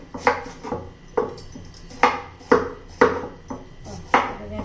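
A knife chops bell pepper (capsicum) on a board with sharp, irregular knocks, about eight clear cuts spaced unevenly over a few seconds, close and distinct with no talk.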